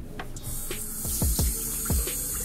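Water sprays steadily onto hair during a quick at-home hairstyling session, a continuous hiss with a few soft splashes and low thumps, close and fairly loud.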